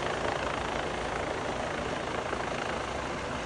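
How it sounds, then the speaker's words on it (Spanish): A helicopter flies overhead during a search after flooding in Valencia, giving a steady, dense rotor and engine roar that holds constant without any breaks. "Hay helicópteros, drones que buscan también desde el área, aire."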